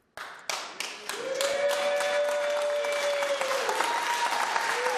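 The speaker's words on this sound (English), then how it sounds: "hold your applause, everyone." Applause from a crowd at a San Francisco Board of Supervisors meeting breaks out and builds into sustained, dense clapping that holds steady, with a bright tone ringing through it.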